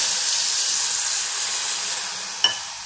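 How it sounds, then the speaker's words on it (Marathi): Water poured into a hot tempering of oil, asafoetida, turmeric, mustard seeds and chilli powder in a village kitchen, giving a steady, loud steamy hiss that fills the clip, with a brief sharp crackle near the end. "तिखट जळायच्या आधीच मी यात पाणी टाकलं"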